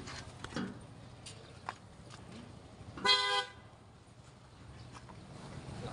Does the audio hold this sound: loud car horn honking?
yes